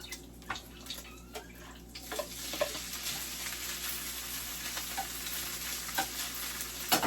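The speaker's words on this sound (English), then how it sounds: "Now I'm adding my rice." Rice going into a hot pan for fried rice: a few clattering knocks and scrapes at first, then a broad, continuous sizzle swelling up and holding, with occasional louder pops and stirring clicks.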